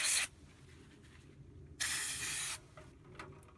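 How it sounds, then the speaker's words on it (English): Carburetor cleaner hisses out of an aerosol can in two short blasts during a motorcycle carburetor rebuild, close and sharp over faint background noise. "And it's never a big long blast, but you just be aware that it will spray."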